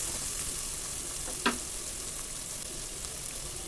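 Tomatoes with turmeric frying in a pan, giving a steady soft sizzle throughout with one brief louder stir or clatter near the middle; no one talks.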